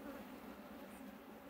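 Honeybees of an Italian queen colony humming steadily around an open hive after a queen introduction, a continuous dense buzz that stays even and close throughout with no voices.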